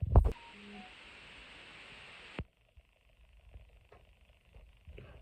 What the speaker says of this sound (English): The moment I put the thing down, ding ding ding ding ding ding ding, sounds like a pissing fire alarm.